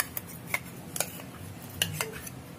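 Ghee is spooned into a heavy-bottomed kadai sitting on a gas stove, with a few close metallic clinks and taps of the spoon against the pan.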